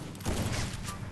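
A single loud gunshot in a shooting video game lands a headshot, a dense, close burst of gunfire that fills the short moment.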